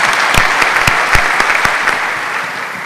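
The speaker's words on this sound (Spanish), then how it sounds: "Perdón, un aplauso." Audience applause at the opening of a scientific conference on metabolic syndrome, a loud, close burst of many hands clapping with a few sharper claps standing out, easing slightly toward the end.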